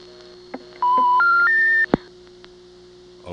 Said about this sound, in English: That's a motor switch making a phone call.